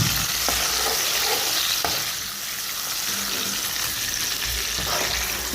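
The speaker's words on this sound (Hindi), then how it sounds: "इसमें डालेंगे लहसुन अदरक, इसको थोड़ा सा भून लेंगे। अब इसमें डाल देंगे चिकन," Chicken frying with garlic and ginger in hot oil in a karahi, a loud continuous sizzle with occasional stirring scrapes, close up and no talking.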